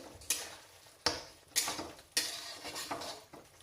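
A spoon scraping and knocking against a pan as spiced kuche fish curry is stirred after garam masala is sprinkled over it, a few distinct close clanks amid soft scraping.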